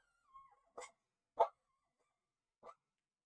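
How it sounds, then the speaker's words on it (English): A dog barks in three separate short yips and woofs, well spaced and fairly faint against an otherwise quiet room, with no talking. "Sorry about my dog."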